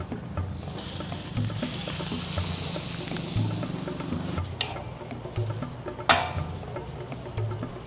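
Meat marinated in salt and vinegar sizzles as it is sautéed in a pan, a steady close frying hiss with occasional stirring scrapes and a sharp clatter near the end.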